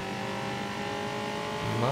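Steady engine drone of a fast car in the racing video game Racing Limits, a continuous hum that rises slightly toward the end, with a voice talking over it.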